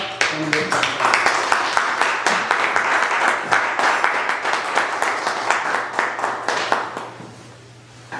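Congregation clapping at a Punjabi Pentecostal church Sunday prayer service, a steady rhythmic beat of hands in unison that runs loud for several seconds, then fades out, with a low hum beneath and voices present.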